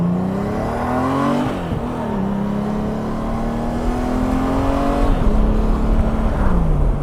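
A Honda Goldwing motorcycle engine accelerates through several gears, each pull a rising drone that drops at the shift, loud and close with rushing wind underneath.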